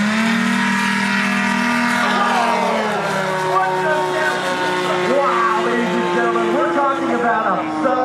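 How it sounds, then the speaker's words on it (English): A STOL aircraft's Yamaha engine roaring at takeoff during a short-takeoff demonstration at EAA AirVenture Oshkosh 2024, a loud, steady, harmonically rich drone that rises and wavers in pitch as the plane accelerates. "let you guys listen to the roar of his Yamaha engine"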